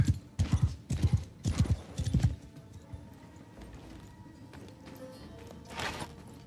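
Horse hooves clip-clopping in the Warhammer Old Realms mod video game: a quick run of sharp, close hoofbeats in the first seconds, then a quieter bed of ambient game sound with one more faint knock near the end.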